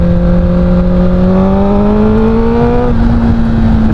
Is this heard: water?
no